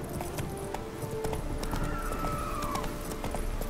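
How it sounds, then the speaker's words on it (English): Hoofbeats of the horse Roach galloping in The Witcher 3, a steady clip-clop rhythm running throughout over game ambience, with a faint whinny-like tone midway. "Let's go, Roach. A magical horse"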